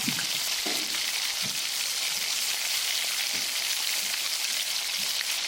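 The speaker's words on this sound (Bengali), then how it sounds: "টমেটোটাকে ভালো করে ভেজে নিলাম" Tomato fries in a pan with a steady close sizzle and scattered soft crackles and stirring knocks, with no voices.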